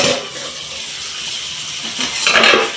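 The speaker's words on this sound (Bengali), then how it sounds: "এবার আমি ঢাকাটা খুলে আর একবার দেখিয়ে দেবো" A pot lid is lifted off mutton cooking village-style, with a short metallic clatter and clink of cookware over a low background hiss, rising to a louder rattle near the end.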